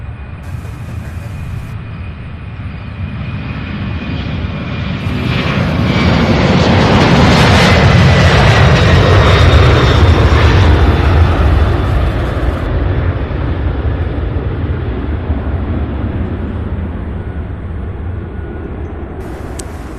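A large jet takes off at Louisville International Airport and raises its landing gear while climbing, a loud broad roar swelling to a peak near the middle and then slowly fading as it passes overhead.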